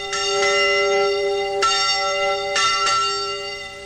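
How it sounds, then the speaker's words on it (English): A village mission bell rings out in Anvik, three ringing clusters of resonant strikes with long sustained tones hanging between them. "when the mission bell rings"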